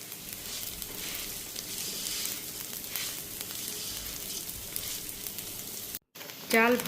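Rice frying with a little ginger paste for pulao, a steady broad sizzle running close and continuous, then a brief cut to silence and a short different sound at the end.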